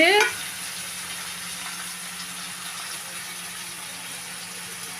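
Tomatoes fry with onion and carrot in oil for egg noodles, a steady, close hiss of frying that holds evenly after a brief louder clatter at the start, with no one speaking.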